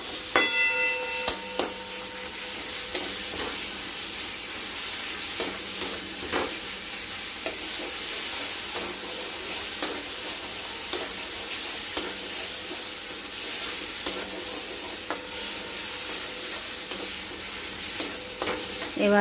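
Spice masala sizzles steadily in oil in a pan, a constant hiss with intermittent scraping clicks from stirring, close and even throughout.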